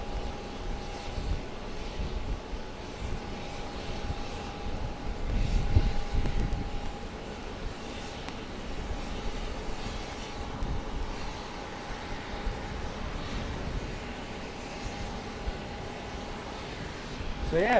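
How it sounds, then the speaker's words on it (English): A Short aircraft arrives at Phoenix Sky Harbor airport, its engine heard as a faint distant drone with a steady tone over rain-damp ambient noise, growing slightly at the end. "Yeah, the short is coming in."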